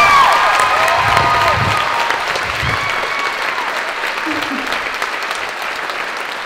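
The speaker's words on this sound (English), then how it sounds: "please give a warm round of applause for Jesselyn Leach, accompanied by Monica." Warm audience applause with some cheering for a performer at a live spoken-word event, loud at first with raised voices, then easing into steadier clapping.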